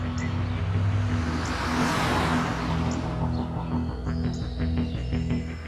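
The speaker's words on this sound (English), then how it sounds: "A couple hours later, this car turns down the street." A car rolls down a quiet residential street at night, its engine hum and tyre noise swelling as it nears and passes, then easing off, steady and moderately close with no voices.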